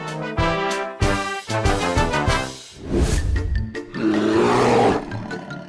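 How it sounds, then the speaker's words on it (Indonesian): A lion roars loudly and close, a series of deep, rumbling roars with brief pauses between bursts. "singa dipercaya memiliki raungan yang paling keras di antara kucing besar lainnya"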